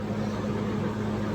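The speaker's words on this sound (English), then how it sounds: "excuse the fan. It's too hot to turn it off." An electric fan runs steadily in a garage where a 1990 Dodge Shadow ES Turbo is being repaired, a constant low droning hum with a faint rattle, close and unbroken throughout.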